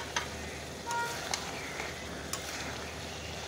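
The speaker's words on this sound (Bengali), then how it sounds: "দিয়ে দিচ্ছি আপেলগুলো।" Apple pieces dropped into a pan of browned chicken give a soft, low sizzle with a few sharp clinks and stirring scrapes, fairly quiet and close.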